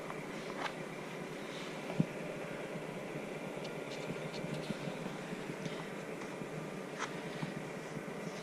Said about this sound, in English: I got the heater going because we're out in the garage and it is January